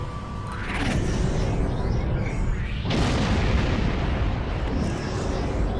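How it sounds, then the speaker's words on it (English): A plasma torpedo strikes its target in Star Trek Online with a loud, sustained rumbling blast that swells again sharply partway through and stays heavy to the end. "Target the plasma torpedo"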